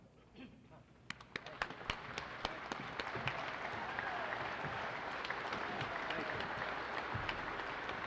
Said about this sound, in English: I want you all to give Ed a standing, rousing cheer of acceptance as he comes to the podium.